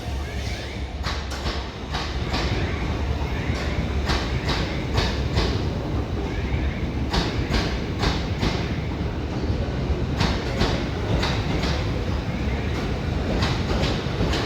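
A Class 377 electric train, an empty stock movement, departs London Victoria with a steady rumble and a run of rhythmic wheel clicks over rail joints, heard at moderate distance.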